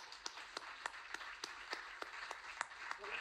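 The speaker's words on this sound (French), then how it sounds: "On peut l'applaudir." Sparse, scattered handclaps from a small audience applauding Paul, the first lycéen with trisomy 21 to pass the baccalauréat with honours; sharp individual claps at an uneven rhythm over a quiet room.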